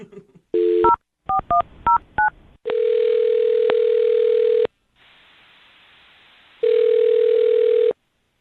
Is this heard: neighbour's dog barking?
no